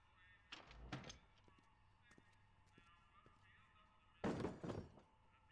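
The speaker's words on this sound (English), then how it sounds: "Bang on the pipe." Two bursts of metallic banging on a pipe inside a Back to the Future adventure game, the first a short cluster of knocks and the second a louder, longer flurry a few seconds later, over a faint background hum.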